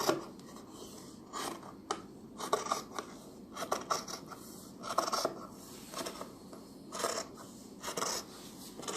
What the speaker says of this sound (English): what we're going to do is cut the trousers out